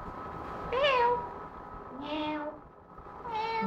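Three clear meows come from a cat at close range, each a short rising-and-falling cry, with pauses between them over a faint background hiss.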